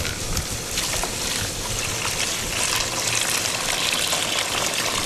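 Water pours and splashes continuously from a bowl, overflowing as betta fry are moved with a net, a steady close gushing trickle.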